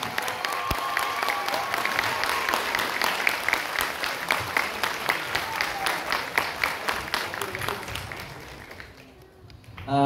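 A theatre audience bursts into sustained applause at a Bulgarian dance troupe's 30th anniversary celebration, a dense crowd of clapping hands holding steady and close for most of the stretch before fading away at the end.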